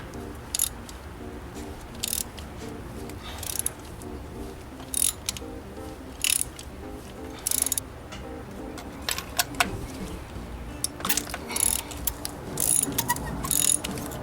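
Ratchet wrench clicking in short bursts while a spark plug is loosened on a 2009–2013 Hyundai Genesis sedan, close and moderately loud, with irregular clusters of sharp ticks over faint mechanical background.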